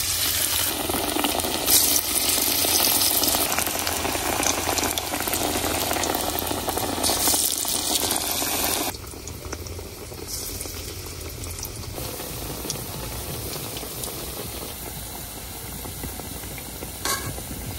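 Meat fritters (bora) deep-frying in darkened oil with rice flour and gram flour batter, a steady loud bubbling sizzle that drops to a quieter, even fizz partway through, with no talk.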